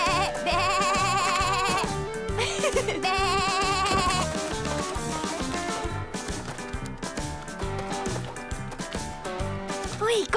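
Goats bleat in the Barbie It Takes Two video game, repeated wavering calls over a busy music bed with a voice talking at times.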